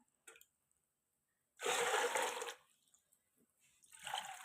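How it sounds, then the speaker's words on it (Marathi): Water poured from a pot into a cooking vessel for making jowar bran papad, a brief splashing gush of about a second, then a quieter trickle and a second shorter pour near the end. "मी आता पाणी ह्या पातिल्याने मोजून टाकणार आहे"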